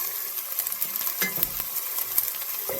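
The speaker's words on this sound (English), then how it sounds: "you want the onions to cook slowly and not burn" Onions fry slowly in a pan, a steady soft sizzle with occasional light stirring scrapes and clinks, close up and without speech.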